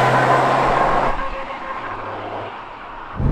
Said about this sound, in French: Le moteur lorsqu'on le démarre fait absolument aucun bruit, mais heureusement vous l'entendez, c'est quand même un petit peu mieux dans les tours.